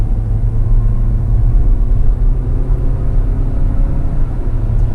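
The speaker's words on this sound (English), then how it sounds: "Now we're turning here onto the interstate, and what I'm noticing is steering feels super, super light on this car, but let's accelerate right now." Inside a 2019 Hyundai Tucson SUV pulling onto an interstate, the engine gives a steady, loud low rumble with road noise and a smooth whir that holds even throughout.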